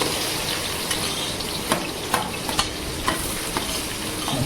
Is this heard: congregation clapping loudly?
no